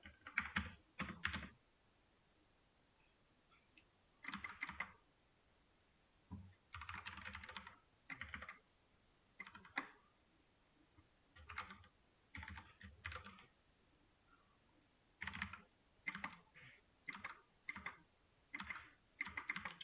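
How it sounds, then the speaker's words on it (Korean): Keys clatter on a computer keyboard during a coding session, coming in short irregular bursts of rapid keystrokes separated by pauses, close and clear, with no talking. "그냥 타이핑을 합시다."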